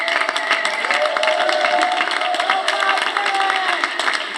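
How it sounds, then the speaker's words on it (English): A conference audience at an anti-war and anti-austerity event breaks into steady, dense applause with some crowd noise mixed in, holding a strong, even level for the whole stretch. "Let's give them a round of applause for fighting the good fight."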